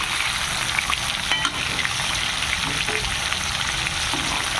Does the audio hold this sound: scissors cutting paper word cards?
no